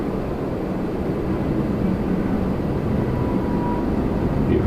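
An airliner takes off at Toronto Pearson, a steady, broad roar of jet engines holding close and loud throughout without a break.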